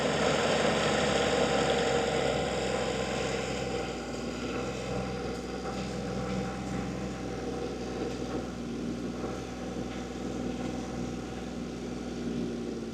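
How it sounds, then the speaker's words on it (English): A snowmobile engine running steadily in a cold northern setting at night, a continuous close mechanical hum and whine with no breaks, slightly louder at first then settling to an even level. "I've got my snowmobile"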